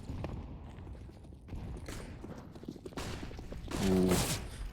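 A barrage of grenades goes off in a Counter-Strike match on the Mirage map: a few muffled game-sound thuds and bursts, the loudest cluster near the end, heard with crowd or caster background.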